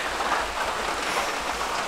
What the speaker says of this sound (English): it started raining pretty hard.